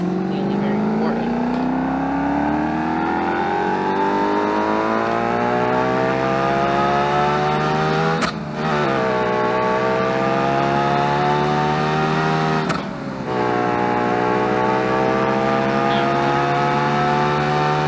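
All-wheel-drive car with a sequential gearbox accelerating hard down a quarter-mile drag strip in BeamNG, its engine note climbing steadily and loud, broken by two quick upshifts with brief dips in sound.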